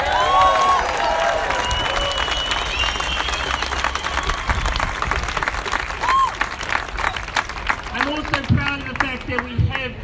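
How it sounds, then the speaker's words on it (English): A protest crowd in Auckland applauds, dense clapping with scattered cheers filling the space, while a voice carries over a loudspeaker on top of it. "Let's give them a round of applause."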